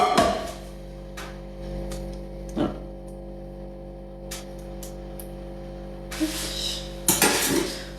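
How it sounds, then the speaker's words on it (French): A silicone spatula scraping the bottom of a dish, heard as a few brief scrapes and knocks against the dish over a steady electrical hum, with a louder clatter of utensils near the end. "comme ça je peux bien racler le fond"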